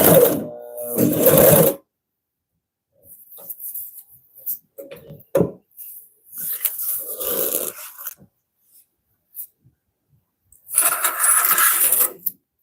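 A Consew CP206RL industrial sewing machine stitches a handbag in several separate bursts, loud whirring runs at start and end with shorter stops and clicks between, and silence in the gaps.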